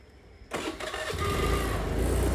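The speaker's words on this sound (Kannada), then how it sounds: "ಈ ಗಾಡಿ ತುಂಬ ವಿಚಿತ್ರವಾಗಿದೆ ನೋಡಿ, ಹೇಗೆ ಸೌಂಡ್ ಬರುತ್ತೆ" A vehicle engine cranks and catches after a short quiet moment, then settles into a loud, rough, odd-sounding idle that grows stronger and stays close and steady to the end.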